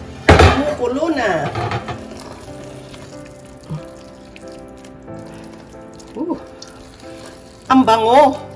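Pasta sauce with mushrooms bubbling and sizzling in a pan, a steady close frying hiss under a voice that talks over it and exclaims through most of the stretch.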